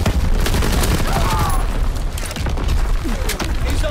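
An artillery strike fires in the video game Call of Duty WW2, a loud, dense barrage of booming blasts and gunfire that carries on steadily through the whole stretch, with voices shouting over the battle.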